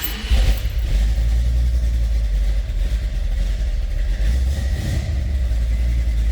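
The rebuilt engine of a 1968 Ford XL Fastback with a mild cam runs steadily nearby with a loud, continuous low rumble and a slight lope, and nobody speaks.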